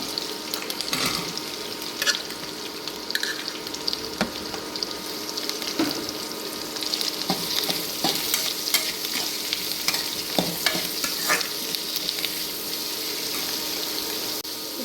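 Clams frying in a pan for marwai sukka, a steady loud sizzle with frequent crackles and the scrape of stirring, plus some splashy watery sounds, close and continuous with no talking.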